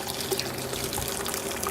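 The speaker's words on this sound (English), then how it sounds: "as I pour the wort through the hop filter, through the hop spider" Oatmeal stout wort is poured through a hop spider filter on a home brewing day, giving a steady close splashing and trickling stream of liquid without talk.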